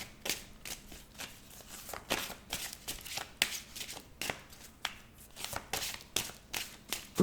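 A deck of tarot-style cards being shuffled and cut by hand, crisp riffling slaps and flicks in quick irregular bursts, close and fairly quiet, with no talking.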